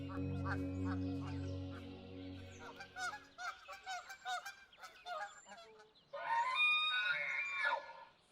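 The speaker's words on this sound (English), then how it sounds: "Amidst the noisy chaos of the ground birds" Noisy ground birds call close by in a chaotic chorus of honking, goose-like squawks, overlapping harsh cries and then a loud burst of clamouring near the end, with no voices.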